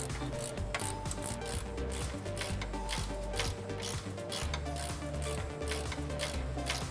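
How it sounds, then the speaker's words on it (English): A ratcheting wrench turns a 16mm bolt on a Toyota Tacoma front suspension during a lift kit install, making a steady, close, continuous clicking ratchet rattle. "a ratcheting wrench will help tremendously for this step"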